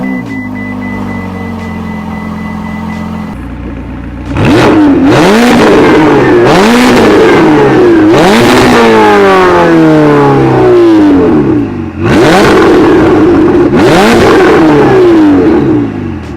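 Ferrari 488 supercar in a home garage fires up with a loud starter whir and bark, then settles into a steady idle broken by several sharp, rising and falling throttle revs, close and loud with no voices.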